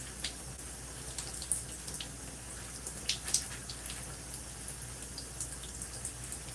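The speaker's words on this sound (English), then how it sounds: "So I'm going to put this hair in the stream of water." A steady stream of tap water runs and splashes continuously as hair is held under it during a wash-and-go routine, with a soft patter of droplets throughout and no talking.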